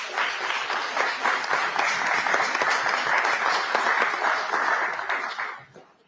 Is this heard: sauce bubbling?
no